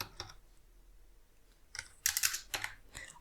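Someone enters an Aadhaar card number on a computer keyboard while filling out an online income certificate application. A few scattered keystrokes come first, then a quick cluster of crisp clicks, close and quiet.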